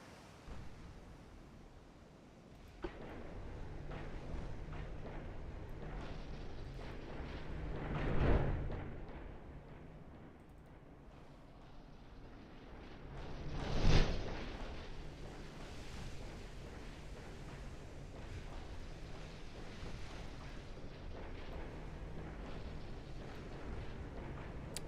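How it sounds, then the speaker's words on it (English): Warship guns firing at sea in Ultimate Admiral Dreadnoughts, two distant booming salvos spaced several seconds apart over a steady wind-and-wave background. "we definitely see him firing his guns"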